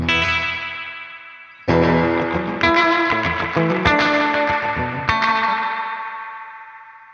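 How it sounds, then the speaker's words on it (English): Electric guitar through a Wampler Mini Faux Spring Reverb pedal, with the volume turned up, strummed in a few loud chords, each ringing out into a long, washy reverb tail that slowly decays. "if we want a lot of brightness on our reverb"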